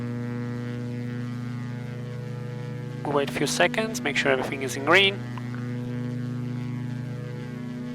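Twin engines of a Diamond DA42 aircraft run at full power with brakes applied before takeoff, a loud steady droning hum throughout, while a pilot talks over it midway.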